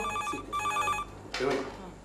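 A telephone bell rings in two short bursts, fairly faint, followed by a brief voice.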